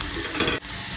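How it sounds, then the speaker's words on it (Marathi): Chopped onion sautéing in a pan with homemade spice masala, a steady close sizzle with a brief dip in loudness midway, no talking. "कांदा परतलाय"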